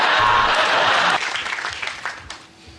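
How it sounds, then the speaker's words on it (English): A Mock The Week television studio audience gives loud, full applause that cuts off sharply after about a second, leaving a quieter room with scattered residual claps and shuffling. "Nice where the applause ended before you could sit down, so you had to sit down in complete silence"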